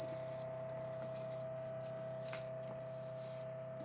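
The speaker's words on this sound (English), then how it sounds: "And that alarm has been driving us crazy throughout this whole video." A quail egg incubator's alarm beeps in a steady pattern of sustained high electronic tones, about four long beeps with short gaps, loud and close over a constant low hum.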